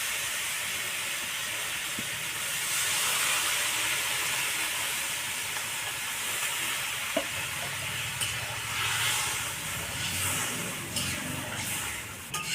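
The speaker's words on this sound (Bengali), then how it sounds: "মশলাও কষানো হয়ে গেছে, এবার আমি পরিমাণ মতো জল দেবো।" Water poured into a pan of fried spice paste for a catla fish curry with potato and pointed gourd sets off a loud, steady sizzle and steam hiss lasting over twelve seconds, with faint clinks of utensils.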